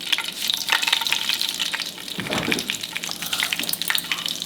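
Mustard and cumin seeds frying in hot oil for khichdi, a dense close crackling sizzle with rapid popping and spattering throughout, briefly dipping before picking back up.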